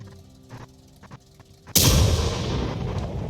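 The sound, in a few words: artillery gun firing in World of Tanks video game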